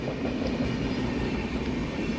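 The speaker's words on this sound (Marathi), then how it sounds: "आणि बघा इकडे एक एक्सप्रेस ट्रेन क्रॉस करते" The Mangalore express train rumbles steadily past Bhoke railway station on the Konkan line, a loud, continuous rolling roar of wagons on rails without a break.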